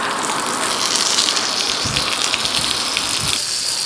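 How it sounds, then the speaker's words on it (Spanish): A garden hose sprays water steadily across the front of a house, a continuous loud hiss with occasional splashing thumps, close by and with no talking. "con esta manguera voy a humedecer el frente de la casa"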